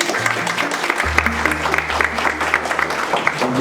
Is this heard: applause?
yes